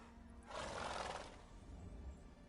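Roach, a horse in Witcher 3, lets out one short whinny lasting about a second, moderately near and clear against quiet game ambience.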